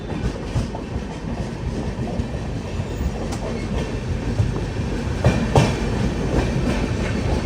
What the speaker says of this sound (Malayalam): ഇവിടെ ഒരു വണ്ടിയുണ്ട്, ബറോണിയിൽ നിന്ന് അഹമ്മദാബാദിലേക്ക് പോകുന്ന ട്രെയിൻ, ഒരു നോർമൽ എക്സ്പ്രസ്.